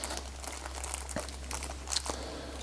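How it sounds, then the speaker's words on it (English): Plastic packaging crinkling and tearing as lock springs and tabs for a late-1990s GM ignition lock cylinder are pulled free, steady close rustle with a few sharper crackles, under a low constant hum. "So we're going to remove these from the packaging."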